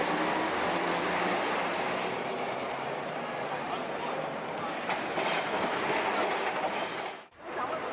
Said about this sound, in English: street trams have a circular route around center of town